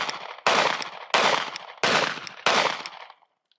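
Five sharp, loud gunshots from a Mossberg MC2SC subcompact pistol, fired at an even pace about two-thirds of a second apart, each with a short decaying tail, then silence.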